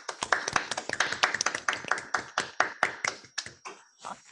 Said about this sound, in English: Let's attempt an applause.